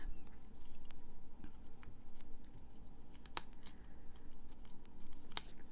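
Scissors trimming a vellum card for a Stampin' Up poinsettia greeting card, giving soft, rapid snips and rustles close by, with a couple of sharper cuts standing out.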